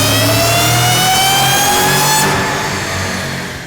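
A manual 2012 Shelby GT500 running a 93 octane Bama race tune revs hard on a chassis dyno, its engine note climbing steadily in pitch to a loud peak before cutting off and winding down, with no talking.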